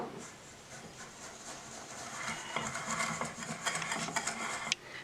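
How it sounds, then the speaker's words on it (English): Flour whisked into sugar in a bowl makes a soft, rapid ticking rattle. It is faint at first and grows busier and steadier near the end, with no voices. "I'm going to add my flour to my sugar and whisk that up."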